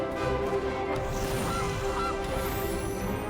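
Goose honking sound effect for the Gilded Goose card in the MTG Arena digital card game, repeated honks sitting inside a dense, steady mix of game music and ambience, no speech.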